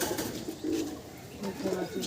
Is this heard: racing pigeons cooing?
yes